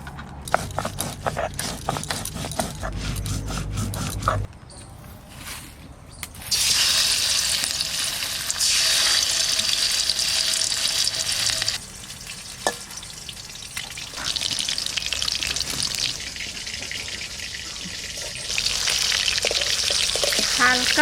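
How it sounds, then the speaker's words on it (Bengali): Fish frying in mustard oil, a large chela fish from the sea, with loud continuous sizzle and crackle through most of the stretch, preceded by some handling clatter and a brief quieter gap. "মাছ ভাজবো তেল দিচ্ছি সর্ষের তেল"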